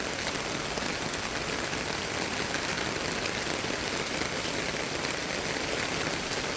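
Heavy rain pouring steadily onto surfaces, a dense continuous hiss of drops, loud and unbroken, with no talk.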